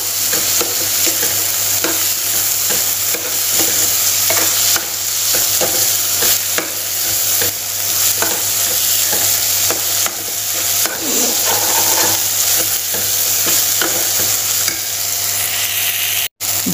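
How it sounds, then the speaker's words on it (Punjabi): An onion and tomato tadka for matar paneer fries in a pan and is stirred, giving a steady close sizzle broken by scraping spoon strokes for the whole stretch, with no talking. "ਇਹਨੂੰ ਵੀ ਚੰਗੀ ਤਰ੍ਹਾਂ ਹਿਲਾ ਲਾਂਗੇ।"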